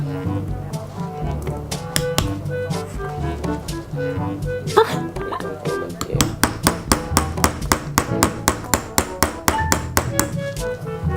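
Repeated sharp taps and scrapes of a tool chipping at hard plaster in a diamond-digging toy kit, coming in quick irregular bursts over steady background music.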